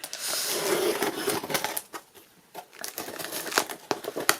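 Parcel being opened with sharp competition scissors during a book and stationery unboxing, with crinkling paper, snipping and tearing in quick irregular bursts, close and fairly loud, pausing briefly midway before resuming.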